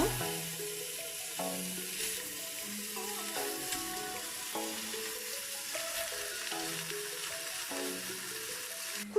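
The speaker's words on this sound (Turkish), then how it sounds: "Kızdırmış olduğum düdüklü tenceremin içerisine etlerimi mühürlemek için alıyorum." Meat sizzles while searing in a hot pressure cooker for islim kebab, a steady crackling hiss throughout, with faint tonal sounds in the background.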